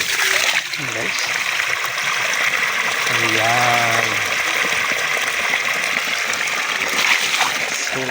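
Tank water gushes and splashes steadily as it drains out during a full water change of a fish tank, a continuous broadband flow under a brief bit of talk.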